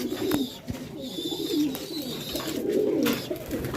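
Fancy racing pigeons cooing at a loft, soft repeated throaty coos close by with faint background noise.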